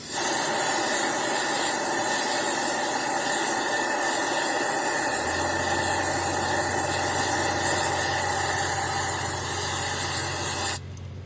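A charcoal forge gets a sustained blast of forced air, heard as a loud, steady rushing hiss with a low mechanical hum that joins partway through. The roar runs unbroken for about eleven seconds, then cuts off abruptly.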